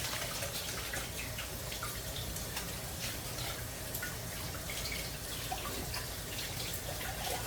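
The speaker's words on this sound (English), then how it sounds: "I'm going to rinse this off real quick." Water runs steadily from a kitchen tap as blackberries or blueberries are rinsed, a continuous close splashing hiss with small irregular spatters and no voices.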